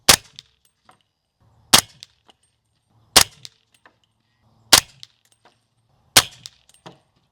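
A suppressed SIG MCX Rattler LT with a SureFire 300 SPS suppressor fires Federal 300 Blackout subsonic rounds: five loud, sharp reports about 1.5 seconds apart, each with a brief metallic clack of the action, close and alone.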